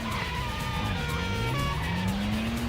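Handbrake turn skid from the PS2 stunt-driving game Stuntman: a car engine drones steadily, its pitch sliding upward as tires squeal through the turn, loud and continuous with no talking.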